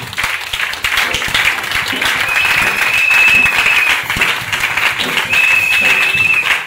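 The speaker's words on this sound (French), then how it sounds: "Acclame alors pour la gloire de Dieu." A church congregation bursts into sustained, loud applause, a dense wash of clapping that fills the room, with voices mixed in beneath it.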